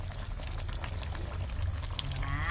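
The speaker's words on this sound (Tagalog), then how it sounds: "Konting simmer na lang" Chicken adobo in coconut milk with sweet potato simmers in a pot, giving a steady, close bubbling and gentle popping that continues evenly throughout with no talking.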